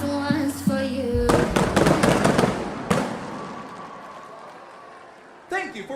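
A Pyro Spectacular fireworks display at SM Mall of Asia by Platinum Fireworks produces a rapid volley of loud cracking bursts and booms that fades into crackling. Crowd noise and a voice sound underneath, then a final burst of pops.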